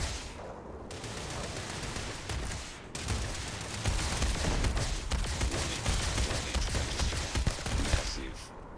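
Sustained laser rifle fire from the sci-fi game Starfield, a loud dense stream of rapid shots with a brief pause before a heavier, continuous burst that carries on to the end.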